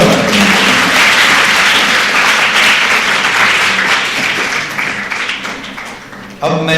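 Loud, dense applause from an audience at an Urdu naat recitation competition, sustained for several seconds and fading slightly before a brief fresh burst at the end.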